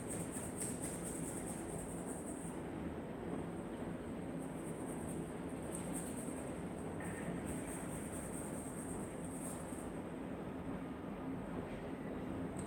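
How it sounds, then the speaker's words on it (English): A steady low rumble of a train rolling past in the distance, continuous and faint, with a soft hiss and occasional squeal. "I got a train going by the place here,"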